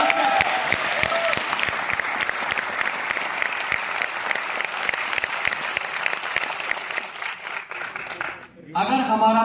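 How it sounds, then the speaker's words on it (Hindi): A large audience at a police constable exam coaching meet-up claps loudly and continuously, a dense close roar of applause that fades near the end before a voice comes in. "तो एक बार कैरियर मिल के लिए जोरदार तालियां हो सकती है"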